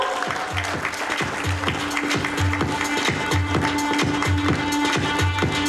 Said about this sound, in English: Let's have a round of applause for her